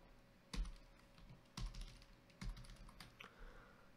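Typing on a computer keyboard during live game programming, a few sharp clusters of key clacks spaced about a second apart over a low room hum, close and fairly quiet.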